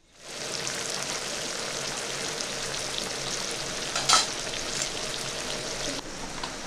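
Masala for paneer chana masala fries in a pan, giving a steady, close sizzling hiss with soft scraping as it is stirred, plus one brief clink partway through.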